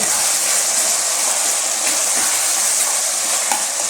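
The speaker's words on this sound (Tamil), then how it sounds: "இப்போ அந்த தக்காளிலாம் நல்லா வதங்கிடுச்சு." Tomatoes sautéing in a pan for a mixed vegetable curry, giving a dense, even hiss of frying that runs throughout at close range, with no voices and only faint clicks.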